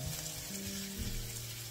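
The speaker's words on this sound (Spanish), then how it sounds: "Cuando está caliente, echo la cebolla y el ajo." Onion and garlic sizzle steadily in hot olive oil in a pan, a continuous close, soft frying hiss with faint crackle and no voices.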